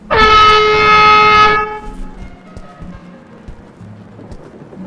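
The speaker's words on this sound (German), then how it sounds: "Oder was war das für eine Tröte?" A loud, sustained horn blast from the video game Go Home Annie lasts about a second and a half, then cuts off, leaving quiet ambient noise with faint low thumps.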